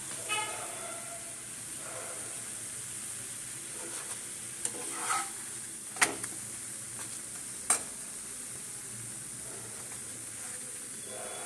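Lachha paratha fries gently in a pan over a low flame, giving a steady, soft sizzling hiss throughout with a few brief clicks and scrapes.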